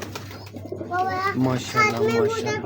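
Ferozpuri pigeons cooing softly close by, mixed in with a voice speaking over them.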